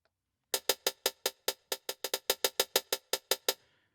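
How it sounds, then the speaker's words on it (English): A crisp electronic hi-hat from a Taka Vibe drum kit on an Ableton Move ticks in a rapid run of about eighteen short, bright hits with a slightly swung rhythm, clean and isolated. "Nice little ticky hat"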